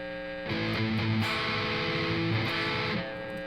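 An electric guitar, a Mitchell MS450 on its split bridge pickup, plays a few sustained chords with heavy distortion, buzzy and bright, with a noisy hiss underneath.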